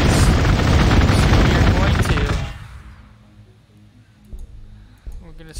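Space Marines open fire in the strategy game Gladius Relics of War, a loud dense burst of rapid gunfire lasting about two seconds, then fading to quiet with a few faint clicks.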